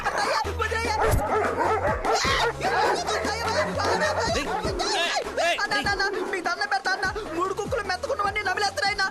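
Dogs bark several times in a Telugu film scene, amid busy music and overlapping voices, the barks partly buried in the dense mix.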